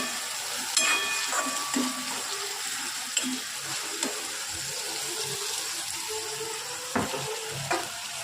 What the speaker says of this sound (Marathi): आणि थोडीशी उडीद डाळ। आपण चांगलं फ्राय करून घेऊयात।